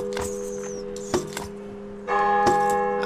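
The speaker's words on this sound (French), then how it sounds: "maintenant il faut faire sonner la cloche avec les carreaux d'arbalète" A church bell in a video game rings out several times as crossbow bolts strike it, sharp metallic clangs with long resonant tones and a fuller double strike near the end.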